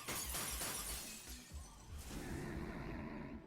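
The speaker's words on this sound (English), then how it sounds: "So smashing the lock" A lock smashed open in the Astro Bot video game, a loud burst of shattering glass-like breaking that rings out and then settles into a dense crackling wash.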